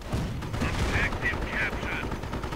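Gunfire in a WWII real-time strategy game as advancing grenadiers come under fire: a dense, steady rattle of battle noise with short bright bursts, under a faint voice.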